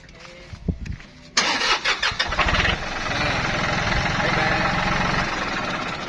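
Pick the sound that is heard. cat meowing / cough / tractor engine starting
tractor engine starting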